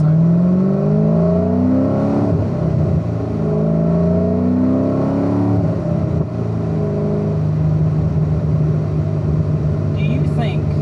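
Porsche race cars in a racing video game, engines droning and revving continuously with rising and falling pitch throughout.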